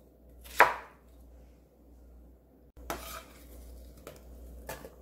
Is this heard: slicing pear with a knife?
yes